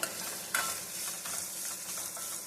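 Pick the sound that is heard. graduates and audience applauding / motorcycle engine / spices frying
spices frying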